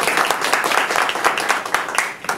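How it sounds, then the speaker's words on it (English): Loud, dense applause from a meeting audience, continuous clapping close by that holds steady and dips briefly near the end. "A good clap."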